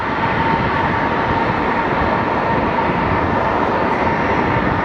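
An American Airlines Boeing 777 at Sky Harbor Airport gives off a loud, steady jet engine roar with a constant whine, close and unbroken throughout, with no voices.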